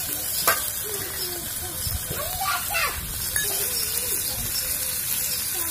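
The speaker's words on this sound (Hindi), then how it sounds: "अब मैं मसालों को हल्का सा भून लेती हूँ" Turmeric and other ground spices being lightly roasted with chana dal in a pan give off a soft, steady sizzle close by, with stirring scrapes and faint background voices.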